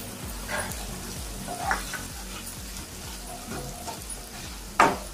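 Onions frying with turmeric in a pan for a beans fry, with steady sizzling and a spoon scraping and stirring in repeated strokes, plus a louder clink near the end; no talking.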